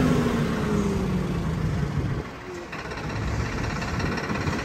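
A Swaraj 969 CRDi tractor engine runs with a steady, rough diesel clatter close by, its tone shifting slightly midway as it keeps going.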